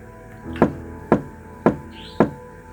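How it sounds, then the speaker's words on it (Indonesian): A house door is knocked on during a rainy night: four firm, evenly spaced knocks, close and clear, each with a short hollow decay. "Tiba-tiba ada yang ketok rumah kakek itu."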